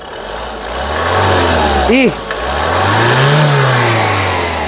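A 2018 Ford Freestyle Titanium Plus engine revs up twice from idle, rising and falling in pitch, close and loud, with a brief spoken word between.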